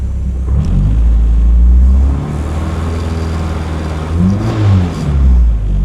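A K24-swapped Nissan Cefiro revs and accelerates while driving, its engine note rising and falling in a few swells, loud and close inside the cabin, with no talking.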